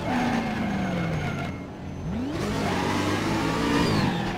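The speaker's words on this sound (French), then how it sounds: "Et là, j'accélère dans le vide." Race car engine in the Raceroom racing game revving hard while the wheels spin without grip, a loud continuous drone with pitch sweeping down, dipping briefly, then climbing again.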